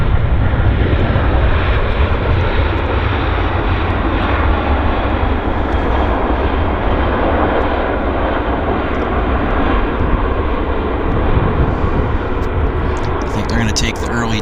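An Airbus A320 rolls on a wet runway with a loud, steady broadband engine roar and tire spray hiss, close and sustained throughout, with voices talking over it.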